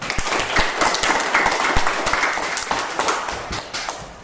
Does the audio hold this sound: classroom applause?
yes